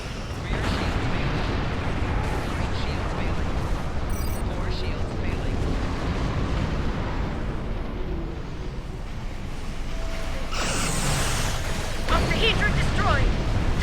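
Borg octahedron blowing apart in Star Trek Online, a sustained rumbling roar of explosions and blasts lasting many seconds, with a sharp bright burst near the end, loud and dense with voices occasionally audible.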